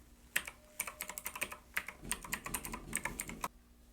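A name is typed on a computer keyboard: a close, quiet run of about twenty quick key clicks in an uneven rhythm, ending with a firmer keystroke, with no voices.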